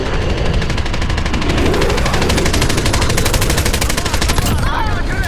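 Video game gunfire, a fast, continuous automatic rattle of shots, loud and steady for several seconds, with a voice speaking under it.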